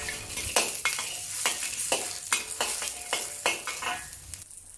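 Scallions, ginger, garlic, bay leaves, cinnamon stick and star anise are stirred in a hot wok, producing a dense sizzle punctuated by a quick rhythmic series of about ten spatula scrapes and clacks, with no voices.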